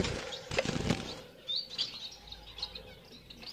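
Fawn Bengalese finches in a home aviary, sending out short high chirps and tweets nearby along with brief wing flutters and scratchy rustling.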